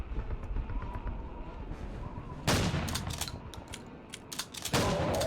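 A weapon fires in Wolfenstein: Blade of Agony, sharp loud bursts of shots that break in abruptly twice after a quieter stretch of game ambience and mechanical clatter.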